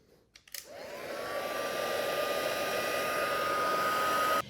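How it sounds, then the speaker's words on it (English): A heat tool for melting embossing powder switches on with a small rattle, then settles into a steady, close blowing whine that holds evenly for several seconds before cutting off. "we want to use our heat tool and heat this up until the powder"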